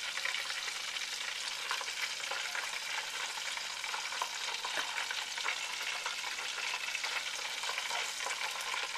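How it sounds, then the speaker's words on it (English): Fish frying in a deep fryer gives off a loud, dense, unbroken sizzle of bubbling oil, even and steady throughout with faint crackling pops, with no voices. "and into the fryer it goes"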